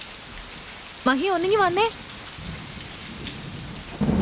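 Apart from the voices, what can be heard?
heavy rain with thunder at night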